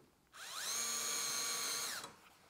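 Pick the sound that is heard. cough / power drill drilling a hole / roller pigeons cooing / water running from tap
power drill drilling a hole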